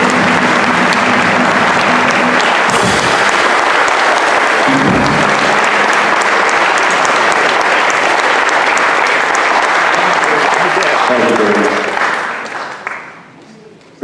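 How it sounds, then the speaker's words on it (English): An audience gives loud, sustained applause at a 2023 event honoring a doctor, with clapping and some voices underneath for about twelve seconds before it dies away. "how about a nice warm round of applause for Dr. Craig Hepburn."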